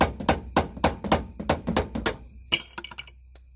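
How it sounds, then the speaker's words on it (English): A hammer taps a bolt out of a lower ball joint on a Chevy Trailblazer in a rapid run of about a dozen sharp metallic strikes, then a few scattered clinks and a brief ringing tone. "you're going to have to take a screwdriver and the hammer and tap this bolt out"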